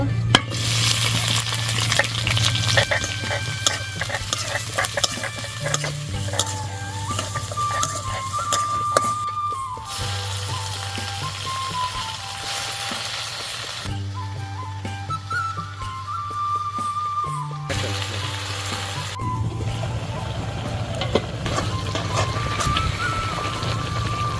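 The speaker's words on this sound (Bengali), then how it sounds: "মরিচ রসুন পেঁয়াজ কাটা দিয়ে দিব।" Chopped chilli, garlic and onion fry in oil in a wok, giving a continuous bright sizzle with stirring scrapes, plus a steady low hum beneath, alone without talk.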